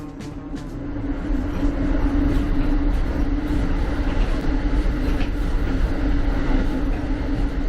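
A passenger train travelling from Niagara Falls to New York rumbles steadily along the rails, with a continuous low drone and hum inside the carriage and no talk.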